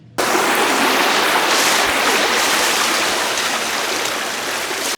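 Hill stream flowing along a trail at Napittachhora, a loud, steady broadband rush of water close by that starts abruptly and runs without pause.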